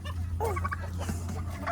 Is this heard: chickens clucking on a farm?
yes